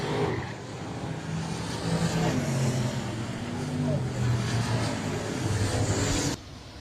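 Sprint race cars at a Texas speedway motor slowly down the back straightaway after a Bandit Outlaw Sprint Series race, a steady engine drone with a voice talking over it throughout.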